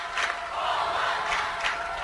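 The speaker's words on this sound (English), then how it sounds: "The Meade crowd, as you can hear, encouraging their team to hold them with 6:26 to go." Meade fans cheering on their team during a Kansas Class 2-1A high school championship football game, a distant, sustained crowd roar with swells of yelling.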